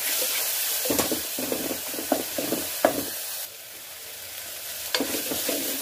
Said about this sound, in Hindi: मसाले को टमाटर गलने तक का भून लेंगे।